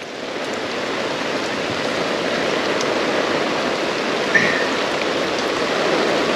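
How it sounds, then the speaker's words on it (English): Steady rain falls while fishing by flooded water at Nerang, a dense, even hiss close by for the whole stretch, with one brief higher splash or squeak midway and no talking. "In the rain, eh?"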